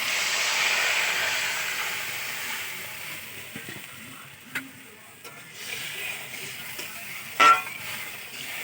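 Water poured into a pan of frying boiled potatoes gives a strong steady hiss that slowly fades to a quieter sizzle, with a few clinks of a utensil, close by.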